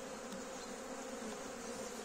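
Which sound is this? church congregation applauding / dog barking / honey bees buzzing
honey bees buzzing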